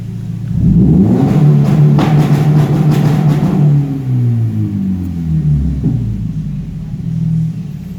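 A Bee R rev limiter is fitted to an engine, which revs up hard into a loud, close, wavering roar, then drops and rises again with shifting pitch.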